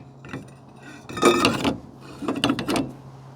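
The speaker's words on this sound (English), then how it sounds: "Go ahead, throw the rotor on." Brake rotor slid onto the hub of a Jeep Renegade, with close metallic clanks and scraping clatter in two short bursts.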